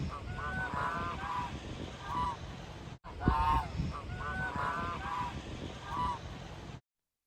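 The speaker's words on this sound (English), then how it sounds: "in the evening we had a flock of European geese come up" Many European geese honking together in a noisy, continuous chorus, fairly close, with overlapping calls rising and falling throughout.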